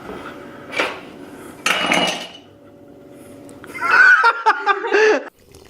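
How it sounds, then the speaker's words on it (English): Whisking dry cake ingredients for a lemon chiffon cake in a bowl, heard as short bursts of wire-on-bowl scraping and clinking, a couple of brief strokes followed by a busier, louder run of tapping near the end. "I'm going to whisk those together until combined"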